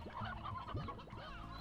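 A chicken clucking in the Slime Rancher video game, a few short close clucks and squawks in quick succession.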